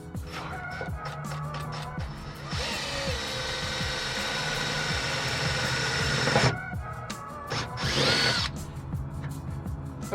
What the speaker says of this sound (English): I'm currently using a 3/16 I think drill bit to make pilot holes